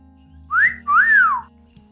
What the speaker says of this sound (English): He sprang to his sleigh, to his team gave a whistle.